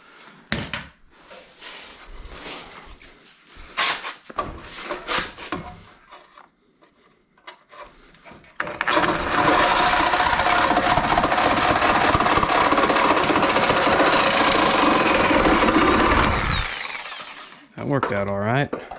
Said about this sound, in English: I'm going to take the Sawzall through that corner to here.